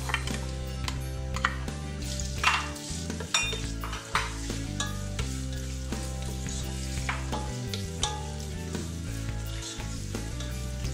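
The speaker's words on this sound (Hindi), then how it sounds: "थोड़ा सा हीटर हो जाए तो फिर मैं ये थोड़ा सा इसमें प्याज डाल दी" Onions frying in hot oil in a pan for Lahori murgh cholay, a steady close sizzle with occasional stirring clinks, running continuously over a sustained low tonal background.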